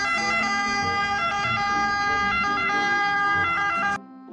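A toy fire truck's wailing electronic siren sounds continuously, close and loud, with a thin tinny tone, then cuts off abruptly near the end.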